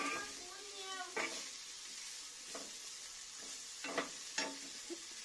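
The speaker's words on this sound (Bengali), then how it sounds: "সেজন্য শুটকি ভাজছি লঙ্কার সাথে" Dried fish frying with chili in a pan gives a soft, steady sizzle under intermittent stirring scrapes and a few sharper clinks, fairly quiet and close, with no talk.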